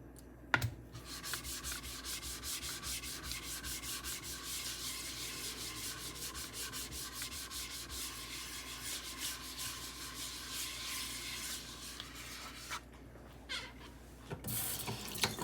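A Kampfe Bros straight razor stroked across a slurried 8000 grit whetstone, a continuous wet rubbing hiss with steady back-and-forth strokes, fairly quiet and close, with a few small knocks at the start and end.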